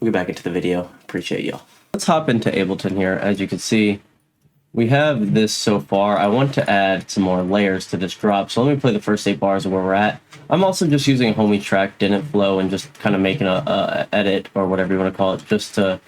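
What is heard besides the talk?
No everyday noise stands out behind the speech.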